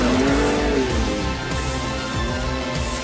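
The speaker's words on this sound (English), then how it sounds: "it's worth making a noise about the selectable exhaust modes" Ford Ranger Raptor 2023 exhaust in a loud selectable mode, a deep engine rev that rises then settles into a steady rumble, close and alone without voices.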